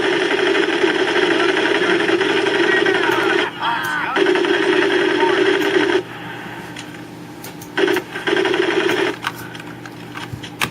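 Sustained rapid machine gun fire from an M1919 .30 caliber in the Medal of Honor Pacific Assault boot camp, a dense continuous rattle in long bursts with brief pauses between them, loud and close.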